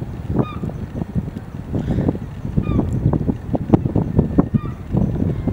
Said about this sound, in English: So it's a mix of herring gulls and ring-billed gulls.